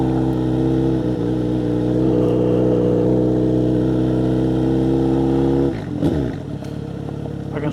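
A Kawasaki Z900RS motorcycle with a Wirus Win slip-on exhaust and baffle fitted idles with a loud, deep, steady burble, then the throttle is blipped near the end for a quick rev rise and fall before it settles back.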